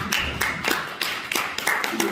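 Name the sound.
audience clapping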